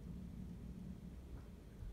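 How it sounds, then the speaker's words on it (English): Low, distant thunder rumbles outside, a soft continuous roll heard faintly from indoors with no voices present. "it sounds like it might be thundering outside"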